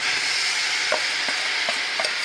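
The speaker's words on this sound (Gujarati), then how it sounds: "હવે તેને ધીમે ધીમે હલાવતા જઈશું। ગોળને ઓગાળવાનો છે।" Soft stirring and scraping in a pan as jaggery melts with a little water, over a steady hiss, with a few light clicks of a spoon against the metal.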